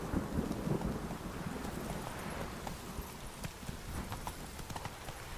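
Roach, the horse in The Witcher 3 video game, gallops with a steady rapid clip-clop of hooves, moderately loud and continuous over a rumbling, rain-like background.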